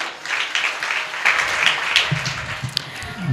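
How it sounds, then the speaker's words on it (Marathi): Crowd applause at a Marathi devotional kirtan fills the clip, a dense steady patter of many hands clapping, with a few voices murmuring underneath toward the end. "या पाहुण्यांसाठी सुद्धा एकदा जोरदार टाळ्या"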